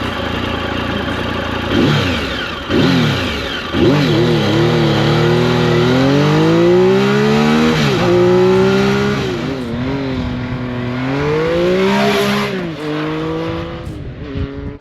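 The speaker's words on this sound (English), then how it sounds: "Tucked away in here is a beautiful triple cylinder, 4-stroke overhead cam, liquid cooled motor." A Triumph Tiger's liquid-cooled, four-stroke, overhead-cam triple-cylinder motorcycle engine revs up and down repeatedly, its pitch rising and falling in several throttle blips. It is loud and close, with no talking.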